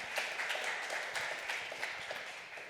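A live-talk audience in Los Angeles bursts into applause, a dense wash of many hands clapping at once, steady and moderately loud, with no talking over it.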